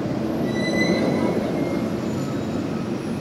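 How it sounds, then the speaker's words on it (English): Trains at a station below, heard as a steady dense rail rumble with faint high wheel squeals, distant and continuous with no talk. "You can hear the trains."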